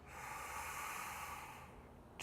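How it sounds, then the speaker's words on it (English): A long, slow, steady inhalation during guided meditation, a soft airy hiss held for about two seconds and ending with a brief breathy shift. "Let's start counting as we do deep breaths."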